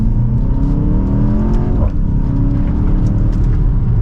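A 2024 BMW X1 M35i accelerating hard in sport mode in second gear, heard from inside: a loud, continuous engine drone climbing steadily in pitch, with a brief dip near the middle before rising again.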